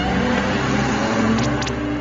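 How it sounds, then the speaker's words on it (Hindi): In a Doraemon cartoon episode, a car drives up with a steady, moderately loud engine hum and a couple of brief high squeaks near the end, no voices over it. "शायद उनकी गाड़ी है।"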